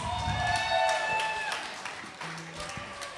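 Crowd applause for a live band at a show: moderate clapping and cheering with whoops, fairly distant, with some voices mixed in.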